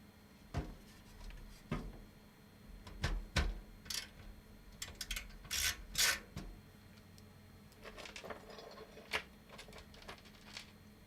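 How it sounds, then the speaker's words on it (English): A computer build is assembled with small screws driven in by hand, giving irregular clicks, taps and scrapes that come in short bursts at close range, with no one talking. "I like to not tighten them up all the way until I have all of my screws in there"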